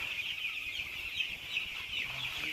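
A crowd of chicks peeps and chirps nonstop in a high, busy chorus that fills a small lit room without a pause, on a cold morning.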